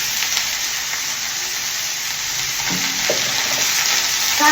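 Chopped red amaranth greens hitting hot oil in a home kitchen pan, a loud continuous sizzle and hiss with a few stirring clatters toward the end.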